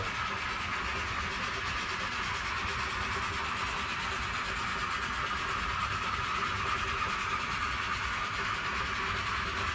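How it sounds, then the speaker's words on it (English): A model train strains up a steep grade, nearly stalling: a steady mechanical whir and hiss holds unchanged for several seconds, an even, labored running noise with no talking. "So that's the train just about stalling on that grade."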